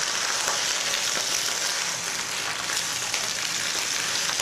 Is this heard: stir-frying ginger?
yes